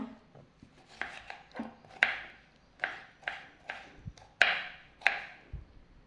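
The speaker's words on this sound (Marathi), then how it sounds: "आता एक टोमॅटो चिरून घेते बारीकसा असं मस्त" A knife finely chops a tomato on a cutting board in about ten crisp, uneven strokes, close and clear, with no talking.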